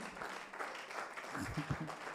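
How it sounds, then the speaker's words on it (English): Moderate applause from an audience welcoming a speaker at a talk on digital transformation of small businesses, uneven clapping with voices rising over it near the end. "welcome and appreciate with a loud applause"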